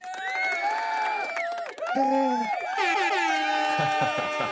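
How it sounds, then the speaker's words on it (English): A played-back sound effect of children cheering with a repeated air-horn blast, loud and close, with the horn tones sounding over the crowd noise in several bursts. "there should have been the kids cheering and the repeated bullhorn sound"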